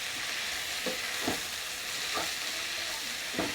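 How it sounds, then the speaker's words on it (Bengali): Chilli cauliflower with salt and a little turmeric fries in a pan with a soft, steady sizzle, broken by four or five scraping stirs of a spoon, all fairly quiet and without talk. "আর সামান্য হলুদ দেবো। দিয়ে এটাকে এখন ভালো করে একটু ভাজবো।"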